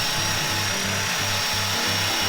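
Rhythmic back-and-forth sanding on parts of Bombi, an off-road vehicle being prepped for paint, with steady strokes about every quarter second over a constant hiss of motor or shop noise.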